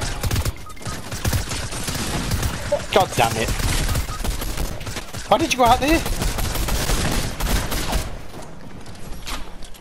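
Gunfire in the video game Fortnite crackles in rapid bursts and scattered shots throughout, loud and dense, while players talk excitedly over it.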